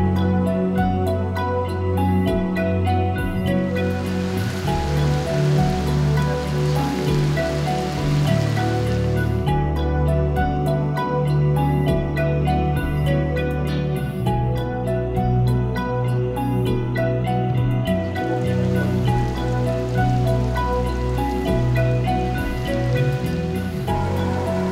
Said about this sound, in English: If this is a rainforest, why not to have some rain?